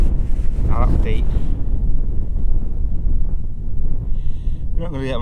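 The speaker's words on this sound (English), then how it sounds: "Wind's got up a bit." Strong wind buffets the microphone outdoors at a metal detecting site, a loud continuous low roar with brief electronic beeps from the detector near the start and end.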